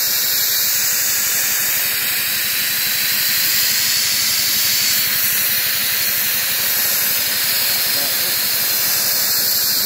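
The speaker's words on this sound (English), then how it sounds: "That's the pressure here charging up, 28 CFM." An air compressor building pressure for a hand-held soda blaster rated at 28 CFM gives off a loud, steady, broadband hiss with a rapid rumbling pulse underneath, continuous and close throughout.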